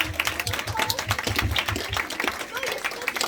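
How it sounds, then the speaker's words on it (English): Children and adults clap at a religious celebration gathering, quick uneven claps mixed with voices and chatter, fairly close and lively. "Big clap for them."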